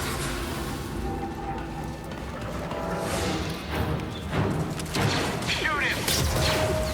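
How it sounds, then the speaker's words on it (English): A mechanical cutter machine whirs and clanks in Star Wars Jedi: Fallen Order, with metallic crashes and thuds building louder toward the end under a steady ambient hum. "You just wanted to turn that cutter on."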